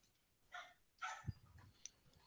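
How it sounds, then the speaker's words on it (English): A dog barks a few times at a distance, faint sharp yaps spaced across a couple of seconds, with no talking over them. "Whose dog's going nuts?"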